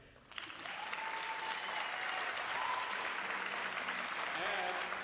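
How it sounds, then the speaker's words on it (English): Audience applause for a junior college student at a high school orchestra club gathering, starting after a brief pause and holding as steady, moderately loud clapping from a room of people, with faint voices underneath. "please clap for her"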